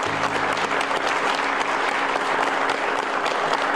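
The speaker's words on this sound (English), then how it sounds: "and you all should give yourself a round of applause." A sports team applauds itself at a player-of-the-week presentation, with continuous dense clapping from a group throughout and no talking.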